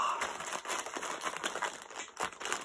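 Plastic mailer bag crinkling and rustling continuously as it is handled and opened, close and fairly loud, with irregular sharp crackles throughout and no talk.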